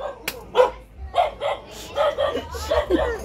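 A dog barks and yips in a short run of quick, close calls, mingled with people talking and light laughter.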